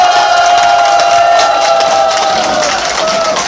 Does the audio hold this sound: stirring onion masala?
no